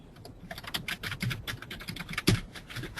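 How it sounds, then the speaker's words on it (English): Quick, irregular key clicks come from a computer keyboard on an open conference call line, faint and slightly muffled under low background hiss, with one sharper knock near the end. "I hear a little typing and background noise"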